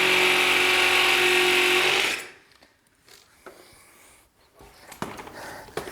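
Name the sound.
drill bit boring into concrete hitting rebar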